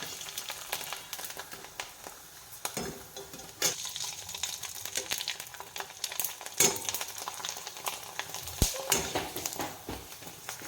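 Papads fry in hot oil that spatters and crackles in bursts, with irregular pops and sharp spits rising above a softer background sizzle, close by and moderately loud.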